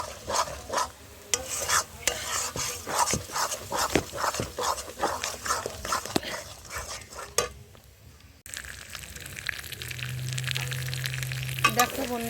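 Bottle gourd leaf paste with cumin and ginger paste frying in oil, stirred with quick scraping strokes over a steady sizzle, then a calmer stretch of frying near the end.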